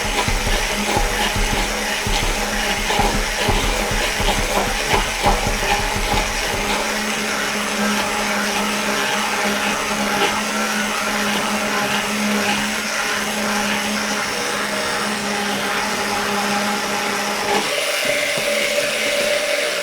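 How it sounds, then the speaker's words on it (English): An emulsion (immersion) blender whirs steadily through a pink grapefruit and ginger drink for about twenty seconds, a close continuous buzzing motor with a rough start that eases, then cuts off near the end. "And then we use our emulsion blender."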